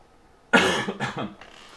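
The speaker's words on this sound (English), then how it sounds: "Sorry about the coughs again." Several hacking coughs from a nearby person in quick succession, loud and close, with a short pause before a final softer cough.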